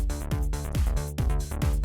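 Electronic bassline in a music mix processed through the Gullfoss EQ plugin, a deep, full, rhythmic bass pattern with pitch-dropping notes repeating roughly every half second, loud and continuous.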